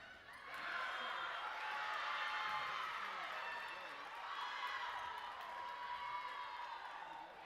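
Volleyball match crowd at a high school game, Flour Bluff against Sharyland Pioneers, a steady sustained roar of cheering and shouting spread across the whole stretch, moderately loud and continuous without pauses.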